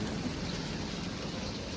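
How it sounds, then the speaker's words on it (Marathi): Heavy rain pours down in a steady, dense roar with no letup, a thick continuous hiss of water falling close by. "आता पाऊस खूप जोरात आला आहे"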